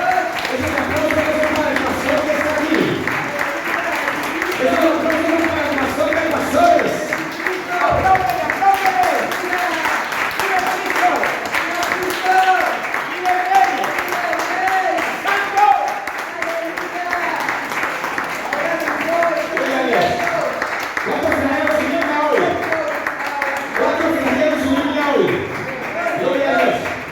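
Church congregation applauding the pastor, a sustained dense round of clapping with voices cheering and speaking over it throughout.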